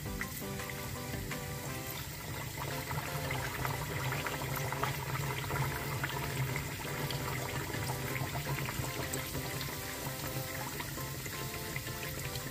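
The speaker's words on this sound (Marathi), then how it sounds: "आता आमी बन हितून घालया फ्राय करपाक, डीप फ्राय करपाक." Homemade Goan sweet buns deep fry in hot oil, giving a continuous dense bubbling sizzle that stays loud and even throughout, with no speech.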